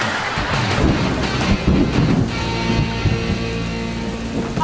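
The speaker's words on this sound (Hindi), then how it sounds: "आज तो जम के बारिश हो रही है" Steady heavy rain roars without a break, with low rumbling swells suggesting thunder beneath the downpour.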